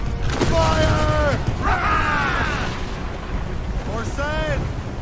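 Naval cannon fire from a sailing warship in Assassin's Creed Rogue, loud booming blasts with rumble, mixed under shouted voices and tonal cries throughout.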